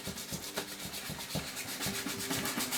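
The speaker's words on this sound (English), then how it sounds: "So sand that thing down." Fine-grit sandpaper rubs steadily over a woodgrain interior insert from a 1970 Mustang Mach 1, producing a close, rhythmic scratchy swishing of repeated strokes with no voices.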